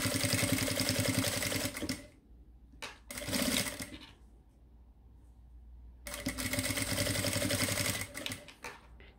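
Sewing machine stitching a carabiner onto a wallet, running in two rapid mechanical bursts separated by a quiet pause, the needle's fast rhythmic chatter close and clear.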